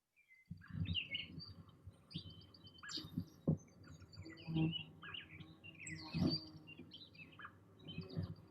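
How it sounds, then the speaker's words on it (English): Daytime outdoor ambience with several birds chirping and singing in short scattered phrases, some close and some farther off, over a steady low background rumble. "that's kind of just a nice, you know, day sound outside with the birds and everything"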